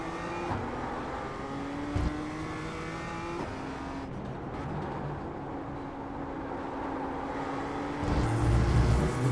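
A race car engine in a racing video game whines steadily at high revs, its pitch climbing and dropping through gear changes, with a brief thump and a louder roar near the end.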